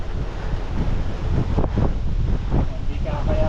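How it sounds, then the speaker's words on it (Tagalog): Strong wind buffets the microphone on a mountain bike ride in General Nakar, Quezon, a loud continuous low roar with gusty surges and no break. "Parang signal number 1 hangin dito ah."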